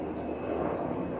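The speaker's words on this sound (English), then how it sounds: "There's a helicopter." Helicopter flying overhead outdoors near a Briggs & Stratton 550 series overhead valve engine being worked on, a steady broad rotor-and-engine drone at moderate level throughout, with no talk.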